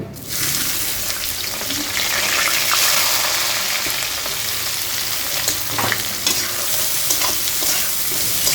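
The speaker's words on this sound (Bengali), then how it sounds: "এই তেলের মধ্যেই আমি পেঁয়াজগুলো লাল লাল করে ভেজে নেব।" Onions frying in hot oil until browned for biryani, a loud, dense sizzle that continues without a break, with stirring scrapes now and then, close up and free of speech.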